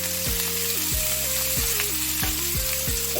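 Potatoes, about 600 to 700 grams, fry with salt and turmeric in a pan, a steady sizzle filling the clip, with a pitched musical tone stepping beneath it.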